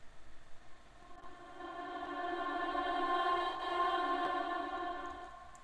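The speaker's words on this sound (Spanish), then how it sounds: "Le puse un reverb súper exagerado, lo grabé y la puse en reverse." A reversed vocal drenched in exaggerated reverb swells gradually from faint to full, a smeared harmonic wash that builds and lingers before easing off, heard alone.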